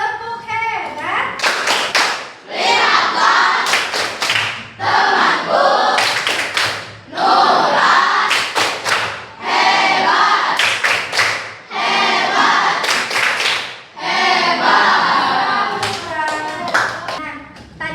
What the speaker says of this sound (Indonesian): Kita kasih tepuk hebat untuk Nura.